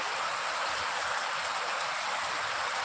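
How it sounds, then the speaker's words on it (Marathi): Dense, steady hiss of heavy May rain pouring down in Pune, an even unbroken wash of drops with no other sounds standing out. "काय जोरदार मुसळधार पाऊस पडत आहे"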